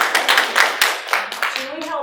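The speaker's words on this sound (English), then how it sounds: "I would like a round of applause for that." An audience in a teaching talk gives a short round of applause, scattered claps mixed with talk and laughter close by.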